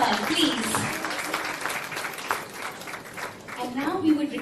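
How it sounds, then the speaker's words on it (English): Steady applause from a crowd at a book launch for Zuni Chopra's book, continuous clapping for several seconds with voices talking over it. "Please, a huge round of applause for her, please."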